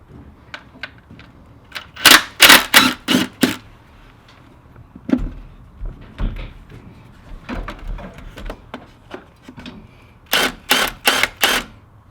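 Timing cover bolts come off a Land Cruiser diesel engine with bursts of rapid ratchet clicking. The clicks come in clusters separated by pauses, and quieter metallic clinks fall between them.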